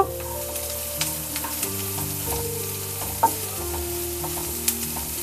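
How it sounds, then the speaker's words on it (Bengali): Oil sizzles steadily as chopped onion and green chili fry in a pan for an atta-based snack, with occasional sharp spatters and a low hum behind. "এর মধ্যে দিয়ে দেব পেঁয়াজ এবং কাঁচা লঙ্কা পেঁয়াজ এবং লঙ্কাটাকে একটু ভাজা ভাজা করে নেব"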